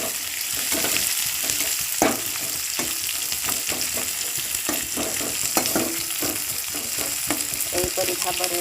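Onion, ginger and garlic fry in a pan under a constant close sizzle, punctuated by frequent sharp scrapes and clicks of stirring at an irregular rhythm. No speech is heard.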